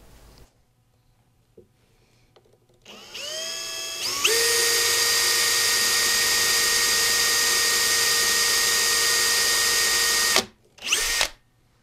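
After a quiet start, a power drill spins up and runs at a high, steady whine for about six seconds drilling fret marker holes in a steel-string guitar fretboard, stops, then gives one short final burst.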